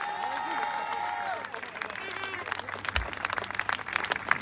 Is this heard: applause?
yes